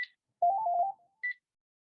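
A mobile phone rings during a talk, giving short electronic tones: a brief high beep, a warbling melodic phrase, then another high beep, alone in a quiet room.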